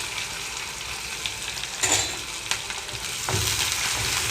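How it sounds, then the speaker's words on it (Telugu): Steady oil sizzle of onions and green chillies frying in a pan over a medium flame, for a tindora fry, with a few sharp stirring scrapes and clatters breaking through the continuous crackle. "కట్ చేసి పెట్టుకున్న ఉల్లిపాయలు పచ్చిమిరపకాయలు వేస్తున్నాము"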